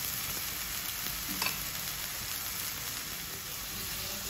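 A tuna, cumin, ginger and turmeric mixture cooks in a pan with a steady, faint sizzle throughout, broken by one soft clink, and no one speaks.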